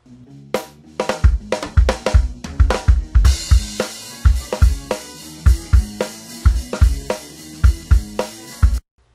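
A drum kit mixed with EQ and compression plays a steady groove with punchy kick and snare hits, cymbals entering partway through, and the kit cuts off cleanly at the end.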